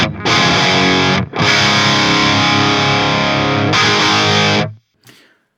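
Electric guitar reamped through a Diesel VH4 amp module in a rack, miked with a bright microphone on a bright speaker: loud, distorted, sustained chords in three long strums with brief gaps, ending in a faint final hit.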